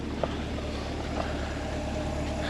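A 2025 Corvette C8 Stingray engine idling while its cooling system is bled and refilled, a steady low hum with a constant drone and no revving, heard alone.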